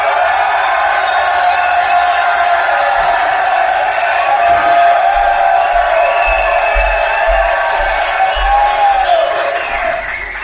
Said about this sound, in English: I want everybody to scream and clap for 10 seconds as loud as you possibly can.